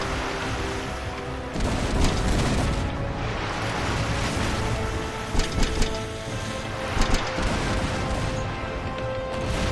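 Ship cannons fire in a naval battle from Rise of Venice: rumbling booms and crashing bursts over a steady wash of sea and wind, with clusters of sharper shots near the end.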